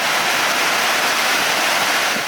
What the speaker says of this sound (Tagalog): Sa lakas ng pag-uulan, tuloy-tuloy ang pagragasan ng tubig sa Siltation Dam sa Barangay Lower Aquari